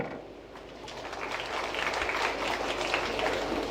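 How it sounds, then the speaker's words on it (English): Spectators at a men's 10-ball world championship pool match in Vietnam applauding a player, a soft swell of clapping that rises and then holds steady. "I'm sure the very friendly Vietnamese will still give a little round of applause for a job well done"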